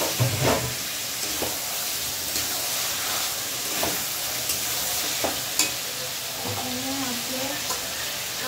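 Chicken meat sizzles steadily in a hot pan, a continuous close-up hiss broken by occasional stirring scrapes and clinks.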